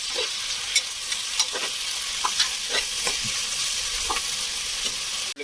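Tomatoes go into a pan of browned frying onions for a mushroom biryani and get stirred, giving a steady close sizzle broken by scattered scraping and clinking knocks of the spoon against the pan.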